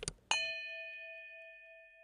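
A single bright notification bell ding strikes once, its clear metallic tone ringing on and slowly fading, after a short soft clang-like tap just before it.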